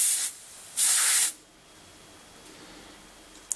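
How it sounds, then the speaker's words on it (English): A gas strut fitted to the Z-axis head of a Warco 18 GH milling machine lets out pressure in two close, sharp hisses. A brief release comes first, then a longer one, followed by near silence. "I'll just gradually release a little gas at a time until I can manage to get the head to move up and down reasonably freely."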